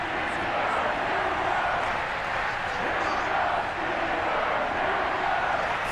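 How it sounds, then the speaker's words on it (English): A sold-out stadium crowd at Heinz Field roars steadily before a Steelers–Broncos game in Madden 22, a dense, continuous wash of cheering and shouting that holds at an even level throughout. "Big Ben Roethlisberger greeted by this sold-out Heinz Field crowd"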